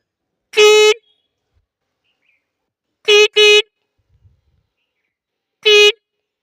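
A voice imitates a car horn with four short, nasal honks: one, a quick pair, then one more, separated by silence.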